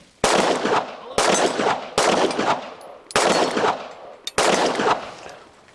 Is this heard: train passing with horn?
no